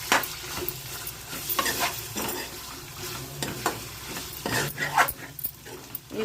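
Chicken fry with grated coriander stirred in a pan, sizzling under repeated scraping strokes of a spoon, with a dog whimpering faintly in the background.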